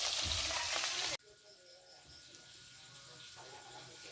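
Food frying in a pan while cooking with a pressure cooker, a loud dense sizzle for about a second that cuts off abruptly, followed by a quieter kitchen background with faint clatter.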